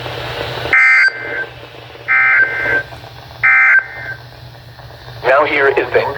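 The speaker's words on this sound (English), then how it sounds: "the National Weather Service has just activated the public warning alarm tone in the test of the" NOAA Weather Radio public warning alarm tone test, with three loud, steady tone bursts about a second long, separated by gaps where a broadcast voice carries on at a lower level.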